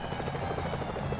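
Security helicopters in the Sly Cooper: Thieves in Time video game make a steady, close whirring rotor thrum with rapid pulsing beats that hold constant throughout.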